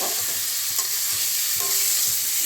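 Katla fish curry masala being sautéed in a pan gives a continuous close, bright sizzle with faint stirring taps throughout and no voices.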